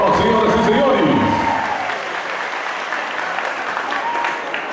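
An audience at a teachers' pedagogical conference applauds to welcome a speaker, a full wash of clapping with a voice over the first seconds, easing to lighter, thinner applause.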